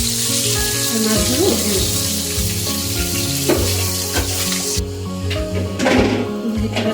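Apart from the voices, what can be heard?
tilapia fish frying in oil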